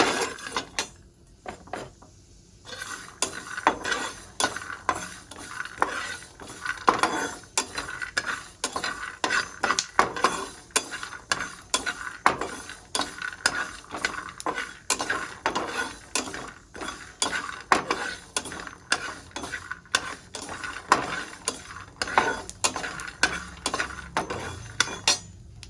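Dry roasting in an empty pan while a utensil scrapes and stirs, for Roshni's sweet recipe, gives steady close scraping and clinking strokes that run on without a break and with no talk.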